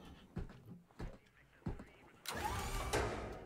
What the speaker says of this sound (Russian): звук такой, как будто машина заводится, как будто бы зажигание в машине